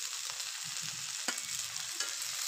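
Green chilies fry in a pan of curry with a steady, close sizzle and soft stirring scrapes throughout, no voices.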